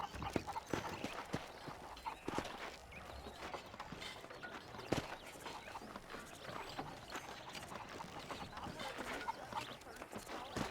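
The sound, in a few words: horse hooves, video game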